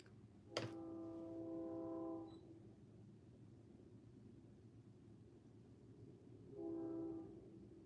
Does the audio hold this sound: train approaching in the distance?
yes